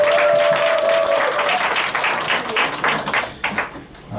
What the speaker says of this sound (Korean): 나오실 때 우리 박수로 환영하도록 하겠습니다